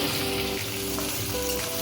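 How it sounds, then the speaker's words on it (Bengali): Spice masala with onion and tomato sautéing in a hot pan, a loud, close, continuous sizzle with light stirring, brief and uninterrupted. "মশলাটা ভালো করে কষিয়ে নেব"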